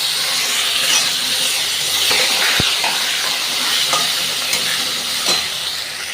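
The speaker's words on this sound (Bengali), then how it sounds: "এবারে এই আলুগুলো আগে ছেড়ে দিয়ে একটু ভেজে নেব" Diced yam potatoes fry in hot spiced oil in a pan, a steady close sizzle and hiss broken by scrapes and knocks as they are stirred, with no talking.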